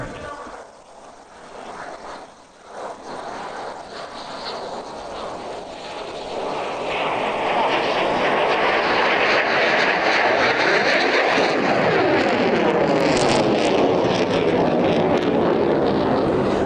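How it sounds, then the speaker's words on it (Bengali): A MiG-29 fighter jet flying a slow-speed handling display over a parade ground builds from a distant rumble to a loud, sustained jet roar with sweeping pitch shifts as it passes, under a faint announcer's voice. "আপনাদের দৃষ্টি আকর্ষণ করছি ডান দিকে প্যারেড গ্রাউন্ডের দক্ষিণ আকাশে MiG-29টি প্রদর্শন করবে স্লো স্পিড হ্যান্ডলিং ম্যানুভার"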